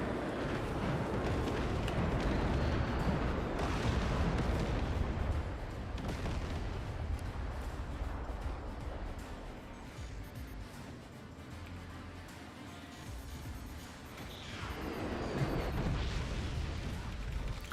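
Flak cannon fire in a video game comes as rolling, booming bursts that stack into dense rumbling volleys, loud at the start, easing in the middle, then swelling again near the end.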